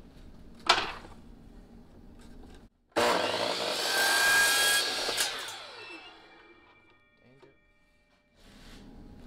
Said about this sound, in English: I'll just put one on top of the other, chop those up on the miter saw